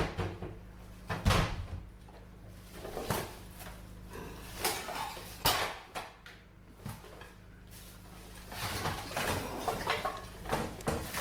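Kitchen cupboard doors banged shut repeatedly at home, a series of sharp knocks and thuds scattered over several seconds with rustling and handling noise between them, moderately close.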